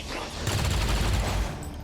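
Gunfire in the tactical game XCOM with the Long War 2 mod: a short, dense burst of overlapping shots that swells in the middle and fades out, with no voices.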